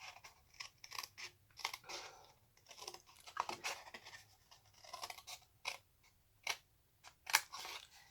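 Scissors snip through paper squares for a double box stamping craft, a run of short crisp cuts in uneven rhythm, close and fairly quiet with no voices.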